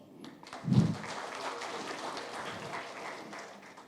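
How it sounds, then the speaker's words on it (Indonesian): Audience applause at a master's in accounting graduation celebration, honoring cum laude graduates; a sustained wash of clapping from a crowd, starting with a brief louder burst and continuing steadily at moderate level. "Kita kasih aplaus."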